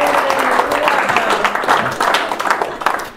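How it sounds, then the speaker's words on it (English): Audience applause at a live comedy show in a VFW hall in Ventura, California, a dense steady wash of many hands clapping throughout, with a voice talking over it near the start. "Let's give a hand to the people that are over 81."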